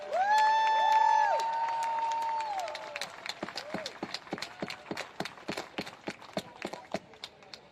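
A crowd at an anti-Trump rally in central Madrid opens with a few seconds of sustained horn-like tones, then breaks into steady rhythmic clapping, sharp claps landing roughly twice a second at a moderate distance.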